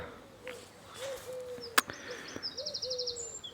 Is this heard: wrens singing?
yes